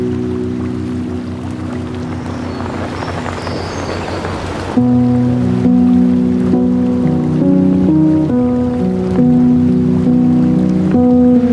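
Tiger Falls waterfall near Courtallam pouring at night, a steady loud broadband rush of falling water with no break, overlaid partway through by sustained tonal sounds.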